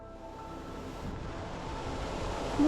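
Palakuzhy waterfall in Palakkad plunges down, a steady broad roar of falling water mixed with wind rumble, rising slightly in loudness toward the end, with no voices.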